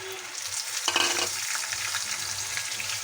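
Chickpeas drop into a hot frying pan, giving a brief burst of crackle over a continuous close sizzle that carries on steadily afterward, with no talking.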